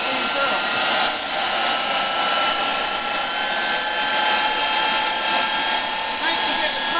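A Wren model jet turbine engine idles at close range, giving a steady, loud broadband roar with a high whine throughout, a constant level and no change in pitch.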